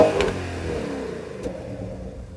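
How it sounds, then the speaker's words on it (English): A car's naturally aspirated V8 engine revs up close at the start and then settles into a steady, rumbling run, with a brief sharp blip partway through and no talk. "This thing has a massive naturally aspirated V8, and it actually sounds pretty great."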